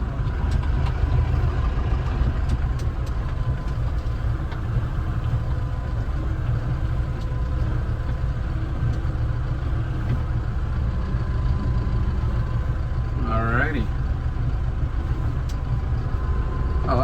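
A new Kubota M110X tractor's heavy engine idles steadily and loud, a deep continuous rumble with no talk, a brief squeal rising near the end.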